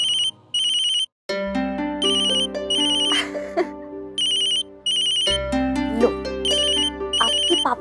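A loud, bright phone ringtone plays a repeating melodic pattern with brief pauses, and a voice briefly speaks near the end.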